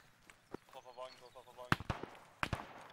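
Several sharp gunshot cracks ring out, a pair close together then more bursts later, with a faint voice speaking in between.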